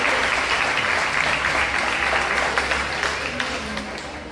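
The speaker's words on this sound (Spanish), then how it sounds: "Zulema Reyes Moreno, fuerte aplauso para ella." Families at a primary school graduation ceremony clap for a school social worker, sending up a thick, continuous round of applause that stays loud and fades slightly toward the end.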